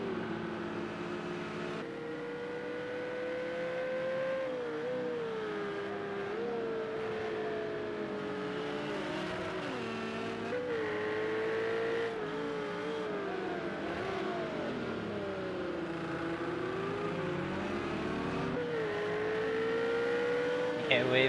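A GT3 race car engine in a racing video game at Circuit of the Americas holds high revs and bounces off the rev limiter, its pitch wavering up and down in a continuous buzzing drone.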